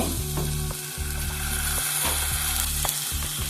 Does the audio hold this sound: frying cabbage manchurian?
yes